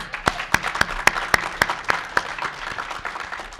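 Audience applause at a New American Leadership Academy ceremony, a steady patter of many hands with sharper individual claps standing out, moderately distant and sustained throughout.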